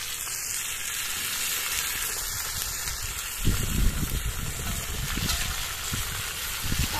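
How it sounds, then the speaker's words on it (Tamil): Spices temper in hot oil for brinjal pachadi, a soft continuous sizzle and frying crackle heard close, with a brief louder stirring burst midway. "நல்லா சேர்த்து நல்ல ஒரு தாளிப்பு கொடுத்தாச்சு."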